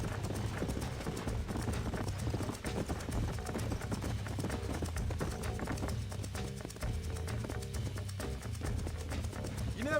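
Horses galloping in the video game Red Dead Redemption, a continuous rapid clip-clop of hooves from several animals, loud and steady with rumbling background noise and no talk.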